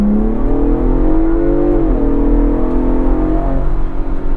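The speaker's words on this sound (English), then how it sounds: "The smaller EcoBoosts make some fun turbo noises" Turbocharged engine of a 2022 Ford Bronco Raptor revving loudly close by, its pitch climbing, dipping, then holding steady, with a whirring turbo layer over a deep rumble and no talk.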